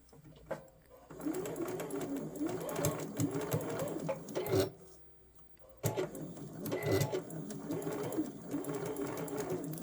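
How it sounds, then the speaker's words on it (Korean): A sewing machine stitches a doll coat in steady whirring runs with a rapid mechanical needle rhythm, pausing briefly partway through before starting again, close and moderately loud. "살살 달래가면서 미싱을 해주셔도 되고"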